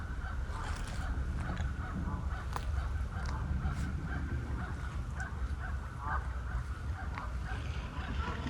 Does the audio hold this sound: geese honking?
yes